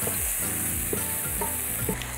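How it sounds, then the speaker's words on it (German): Onions and garlic sweat in a frying pan, giving a steady, close sizzle with a few faint stirring knocks, no voices over it. "jetzt schwitzen wir ein bisschen Zwiebeln in der Pfanne an, genauso Knoblauch"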